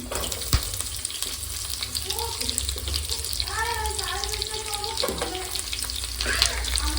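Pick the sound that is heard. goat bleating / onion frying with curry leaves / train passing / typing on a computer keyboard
onion frying with curry leaves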